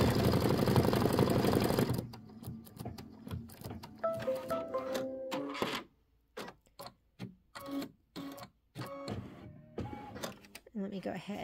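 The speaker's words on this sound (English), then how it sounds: "Once it starts stitching" An embroidery machine stitches a block of a Kimberbell nativity bench pillow, first a dense continuous whir, then rapid stop-start bursts of needle chatter with pauses, while a person talks over parts of it.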